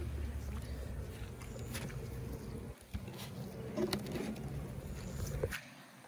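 Honey bees around a hive as extracted frames are put back, a steady faint buzzing drone throughout with small knocks and handling noises over it.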